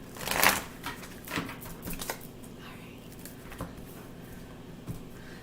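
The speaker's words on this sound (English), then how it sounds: "One more good shuffle." A straight tarot card deck is shuffled by hand, giving a burst of rapid riffling and patter near the start, then softer scattered card taps and slides at close range with no talking.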